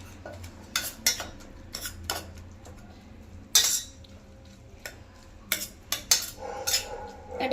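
Metal spoon mashing cooked egg curry in a pressure cooker pot, giving scattered sharp clinks and scrapes against the metal, some louder than others, in an irregular rhythm over a low background hum.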